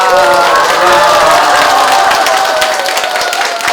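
A crowd at a Buddhist gathering gives dense, loud, sustained applause and cheering, with voices calling out over the clapping throughout.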